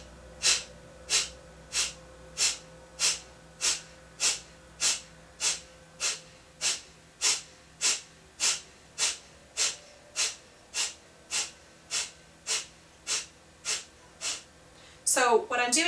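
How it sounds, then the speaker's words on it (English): Rapid, evenly spaced forceful exhales through the nose in a breathing exercise, about seventeen sharp bursts in steady rhythm at close range, ending with a brief louder rustle. "The exhales are very sharp and very intense"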